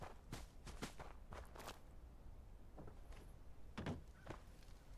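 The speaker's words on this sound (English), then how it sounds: "The earth trembles at your mighty footsteps." Footsteps in the video game Fallout London sound as a handful of light, separate steps, some in a quick cluster and a couple later, faint against a soft background hiss.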